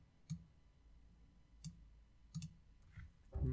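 Computer keyboard keys are pressed in a few sparse, crisp clicks spaced apart, quiet and close, followed by a brief voice at the end.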